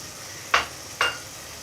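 A spoon stirs red chili powder into chana daal in a pan with two quick scraping swishes about half a second apart, close and crisp against a quiet background.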